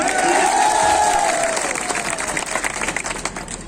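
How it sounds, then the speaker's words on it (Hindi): A crowd at a political rally for Madhya Pradesh by-elections bursts into loud applause and cheering, with a rising shout at the start that fades into steady, close clapping. "अरे तालियों की गड़गड़ाहट से।"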